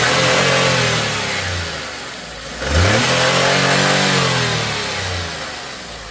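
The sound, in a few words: car engine revving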